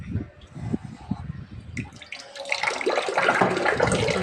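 Water from a kitchen tap runs into a container, rising from quiet trickles and drips to a loud, steady rushing fill over the last half.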